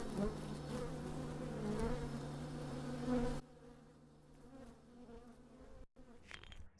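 Honeybees buzz around a beehive at the Swedish Embassy in Canberra, a dense, continuous drone close by that drops to a fainter, thinner hum partway through, with no voices.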